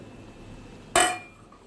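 Pabda fish drop into a pot of boiling curry with one sudden splashing hiss that fades within a fraction of a second over quiet background noise.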